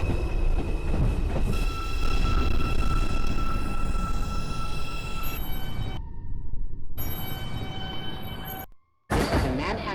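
R142 subway train on the Manhattan-bound 5 line to Bowling Green in the OpenBVE simulator game, running loudly with steady motor drone and rail rumble, broken by abrupt sound cuts and brief silences near the end.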